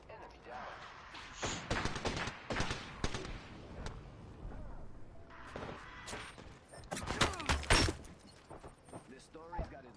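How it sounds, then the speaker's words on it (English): Video game shootout with bursts of gunfire and heavy impacts, shots arriving in irregular clusters at moderate volume, mixed under near-constant talking. "I am taking fire"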